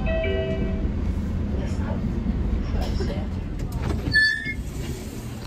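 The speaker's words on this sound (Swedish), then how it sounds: "nu kommer då spårvagnen som ska ta mig till Aga" A Lidingö line tram arriving, with a continuous low rolling rumble and a high metallic squeal near the end as it pulls in; a voice talks over it.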